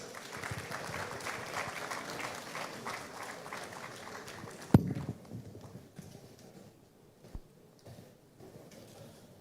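At a national event launch in Ghana, an audience applauds as a dignitary is welcomed: a fairly faint, scattered patter of clapping with a couple of sharp knocks, tapering off midway.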